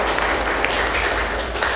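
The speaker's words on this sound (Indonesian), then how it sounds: "Tepuk tangan untuk kelompok 1." A classroom full of students applauds one student group, a steady wash of clapping lasting the whole moment without a break in the sound.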